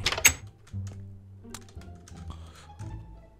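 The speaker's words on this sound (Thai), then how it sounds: "ผมว่าคีย์บอร์ดผมเน่าป่าวะเนี่ย" Computer keyboard keys clack while someone plays Minecraft, a quick irregular run of close, crisp key presses and taps.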